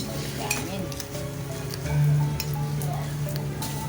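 Kerupuk crackers frying in hot oil, a steady sizzle and crackle with occasional clinks of a utensil against the pan, heard close with faint voices in the background.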